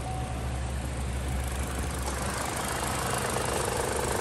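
A Chevy Cruze Ecotec engine idles just after a timing belt replacement, giving a steady, slightly rattly mechanical hum with a faint fan whir, close and continuous without talk.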